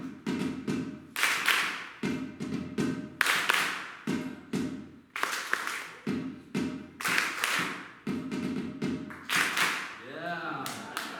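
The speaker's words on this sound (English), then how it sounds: "I want you guys to clap on three." A live audience at a show claps in unison, loud rhythmic group claps in a repeating pattern, with a performer's voice heard between them.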